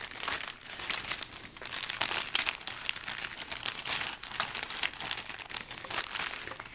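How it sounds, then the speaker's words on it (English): A great big plastic bag holding the parts of an Airfix 1/72 scale Bristol F2B Fighter model kit crinkles and crackles continuously at close range, with bursts of rustling and no talking. "Now let's take a look at the plastic. It comes in this great big bag here."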